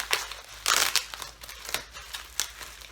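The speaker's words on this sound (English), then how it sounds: "It's like big honkin' bubble wrap." Large bubble wrap packaging crinkling close by as items are pulled out of a box, in several irregular bursts of rustling and crackling with brief quieter gaps between.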